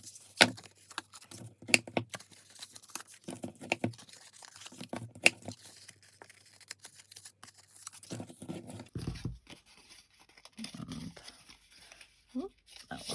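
Paper is folded and creased for Christmas pudding table favours: soft crinkles, taps and sharp creasing strokes come close up in irregular bursts, with a person talking throughout.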